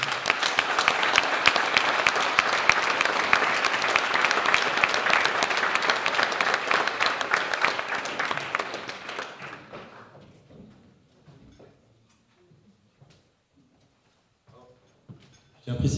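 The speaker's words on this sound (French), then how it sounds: "je vous demande d'applaudir avec moi Benoît Collop et Martine Génola" Loud, dense audience applause at a conference for two people being welcomed on stage, holding steady for about nine seconds before fading out to near silence with a few scattered late claps.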